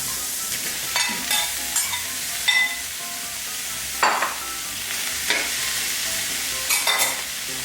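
Shrimp and champignon mushrooms stir-fry in a hot pan, giving a steady sizzle broken by scraping stir strokes every second or so, close and fairly loud with no talking.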